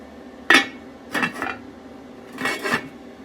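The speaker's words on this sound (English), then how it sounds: "Now I'm gonna put the lid on" A lid goes onto a pot of homemade country-style steak with a sharp metallic clank. Two more clattering knocks follow as it settles, all close and loud over quiet room noise.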